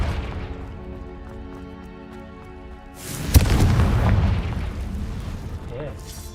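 Explosive spell blast in a video game: after a few seconds of background music, one sudden loud boom hits, followed by a rumbling burst that fades over a couple of seconds.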